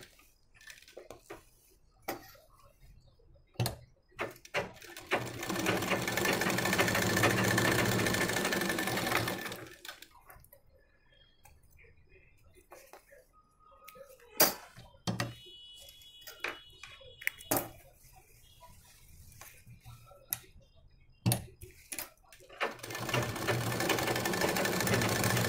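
A sewing machine stitches a blouse with ari work in bursts of loud, fast mechanical chatter, separated by quieter pauses full of sharp clicks and handling taps, with no voices.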